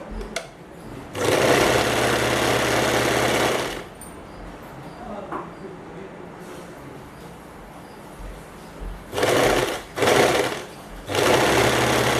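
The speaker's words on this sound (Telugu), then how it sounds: "ఫస్ట్ ఇది కదిలిపోకుండా ఒక కుట్టు వేసేసి" Sewing machine stitching a boat neck back-open blouse, loud rapid bursts of running stitches separated by quieter pauses with faint handling noise.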